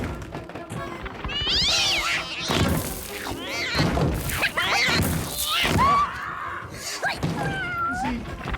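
A cat in a creature feature film scene meows and yowls loudly in drawn-out, wavering cries, mixed with thuds, crashes and a few bits of talking.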